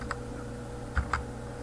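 A few light clicks from a computer keyboard tap out quietly: an isolated keystroke, then a quick pair about a second later, set against a faint background hum.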